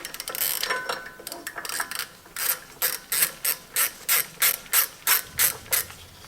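A ratchet wrench with a Torx T30 bit working a rear brake bolt on a 2006 Mercedes-Benz E350, a close run of about a dozen crisp, evenly spaced clicking strokes after some irregular rattling.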